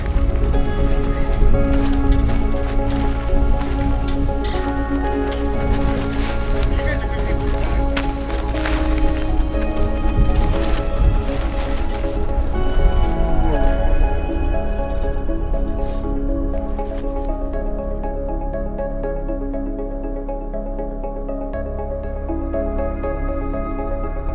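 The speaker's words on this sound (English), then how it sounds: "These guys better get used to hearing Dyneema flapping in the wind." Dyneema tent fabric flaps and rattles hard in strong gusts of around 30 mph at a backpacking camp in Canyonlands National Park, Utah, a loud, steady buffeting roar with irregular flutters throughout.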